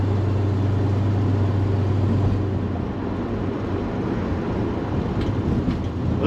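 A 1967 Dodge Dart rolls along the road, a continuous low engine rumble and road roar from inside the car, with a steady drone that drops away partway through.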